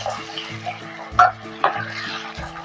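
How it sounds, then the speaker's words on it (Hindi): Onions with ginger garlic paste being stirred in a pan for mutton varuval, with soft sizzling frying and a few close scraping clinks of the spoon against the pan. "अच्छे से मिक्स करो।"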